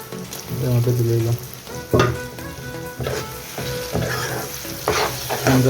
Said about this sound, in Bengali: এখন টমেটো দিলাম,